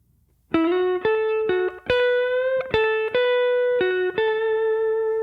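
A clean electric guitar plays a short bluesy lick alone, with several plucked notes and bends ringing out clearly after a brief silence.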